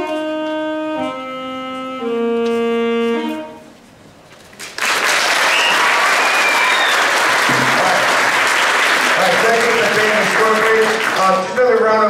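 Loud, sustained applause from an audience at a 6th grade middle school spring concert breaks out after a few closing keyboard-like musical notes fade, filling the room with dense clapping and a few cheers.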